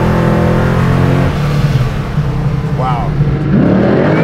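A 1,000-horsepower big-block V8 Jaguar sedan drag car on nitrous pulls hard under acceleration, its deep engine roar rising and changing pitch throughout, with people talking and exclaiming over it.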